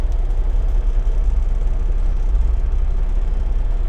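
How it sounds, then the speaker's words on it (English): A semi truck's diesel engine idles in a continuous low rumble, loud and close, with a steady churning drone and no voices over it. "Fire the truck up."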